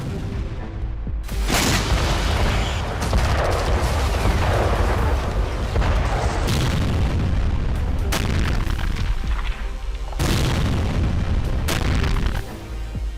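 Artillery fire and explosions from a Russian attack in Kharkiv, Ukraine: several heavy booms and blasts arrive one after another, loud and rumbling, with sharp onsets and long decays.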